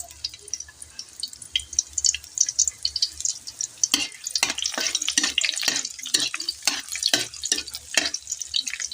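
Onions dropped into a hot pan, a gentle hiss that turns into a sharp, crackling sizzle with rapid pops and spatters, close and fairly loud.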